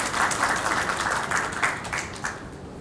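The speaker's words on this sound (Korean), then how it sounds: "여러분들 힘찬 박수로 맞아주십시오." Brief, moderately loud applause from an audience welcoming a speaker at an exhibition opening ceremony, a dense patter of clapping that holds steady for under three seconds.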